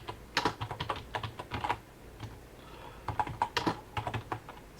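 Someone types a Linux command on a computer keyboard, producing bursts of quick, close key clicks separated by a short pause, with no voices.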